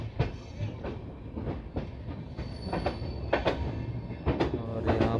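Bandra SF Express passenger train running on rails near Hapur Junction, a steady rumble with repeated clickety-clack wheel beats over the joints, heard close and continuous from on board.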